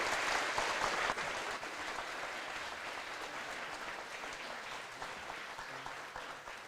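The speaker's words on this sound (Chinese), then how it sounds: "我们再给他们热烈的鼓掌" An audience at a charity concert for blind and visually impaired elderly people living alone breaks into warm, sustained applause. The clapping is densest in the first second, then settles into a steady, even patter that continues throughout.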